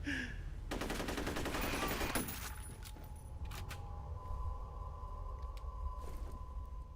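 A fast burst of automatic gunfire in the F.E.A.R. video game lasts about a second and a half, then gives way to a low, droning ambience with faint clanks.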